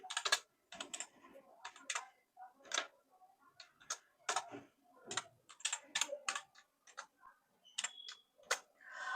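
Fingers type for loop code on a computer keyboard in bursts of close, crisp key clicks, with short pauses and an uneven rhythm throughout.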